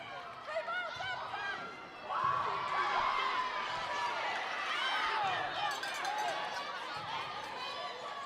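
A crowd cheers and shouts at a senior-night high school volleyball match between Norristown and PW, swelling loudly after a couple of seconds and staying lively, with excited voices and whistles echoing in a gym.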